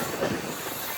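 Tirupati Express LHB train entering Samarlakota junction, a brief faint hiss of steel wheels squealing on rails with a soft rolling rumble beneath.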